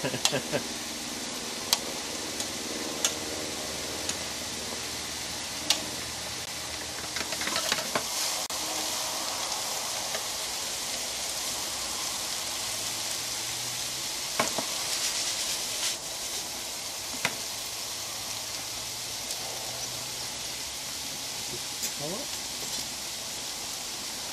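Steady sizzling of food frying in a 40-year-old frying pan, a continuous hiss with occasional clicks and scrapes of stirring throughout.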